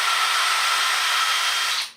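A power drill fitted with a rod end installer adapter whines loudly and steadily at high speed in a garage, then spins down and stops near the end.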